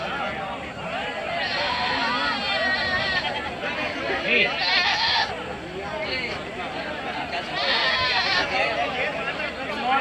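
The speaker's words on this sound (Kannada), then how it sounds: "ಕುರಿ ಮೇಕೆ ಸಂತೆ ನಡೆಯುತ್ತೆ ಇಲ್ಲಿ ಜಾಸ್ತಿ ಮೇಕೆಗಳು ಜಾಸ್ತಿ ಬರ್ತವೆ" Goats and sheep bleat repeatedly at a weekly livestock market near Nelamangala, mixed with a constant hubbub of people talking close by.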